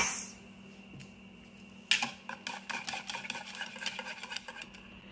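Pancake batter made with yogurt is mixed in a bowl, starting with one sharp knock and then turning into a quick, steady run of close whisking and scraping.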